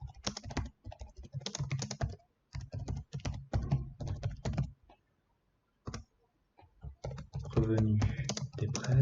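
Rapid bursts of clicky typing on a computer keyboard while entering budget figures in Excel, close and clear, broken by short pauses, with someone speaking French between and over the keystrokes.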